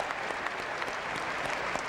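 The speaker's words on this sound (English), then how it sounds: "You can see the judge, Sandra Goose Allen, there applauding for her group." Audience applause fills an arena at the Westminster dog show, a steady sustained clapping from a large crowd heard at a distance, with no voices.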